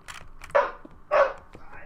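Two short dog barks in the video game Minecraft, version 1.8, close and moderately loud, spaced about half a second apart amid background game sounds and some speech-like noise.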